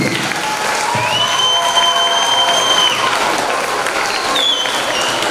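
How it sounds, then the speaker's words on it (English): A big round of applause at a school event for PS 217, steady dense clapping from a crowd throughout, with a few whistles and cheers rising above it. "a big round of applause"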